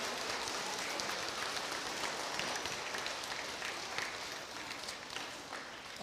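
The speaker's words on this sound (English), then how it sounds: "give him one more round of applause" A school crowd at an elementary Student of the Month assembly gives sustained applause, a dense, even patter of many hands that continues for several seconds with no one speaking over it.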